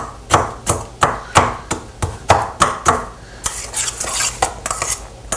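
A spoon scrapes and knocks through BBQ beef in a big mixing bowl, sharp regular clacks roughly every third of a second, close and loud, turning into busier, quicker scraping toward the end.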